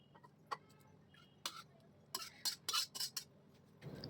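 Cooked chicken mince scraped and poured from one pot into another, with a few sharp metallic clinks of a spoon against the vessel.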